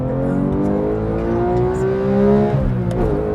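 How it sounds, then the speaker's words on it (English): A Porsche 911 GT3 Touring engine revs steadily upward toward its 9,000 RPM redline, harmonics climbing to a high-pitched wail before easing off, loud and close throughout. "Listen to that engine."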